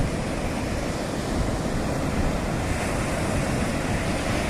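Sea waves at Pakala beach roll in as a continuous, fairly loud surf roar, mixed with wind rumbling across the microphone and no voices.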